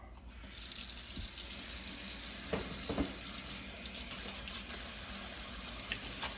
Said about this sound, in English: I'm going to wash mine again just to demonstrate.